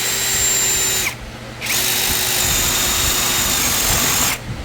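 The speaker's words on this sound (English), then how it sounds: "to pre-drill this hole right here" A power drill bores a pilot hole through a wooden RV foot pad, whining loudly and steadily in two long bursts separated by a brief pause, with no talking.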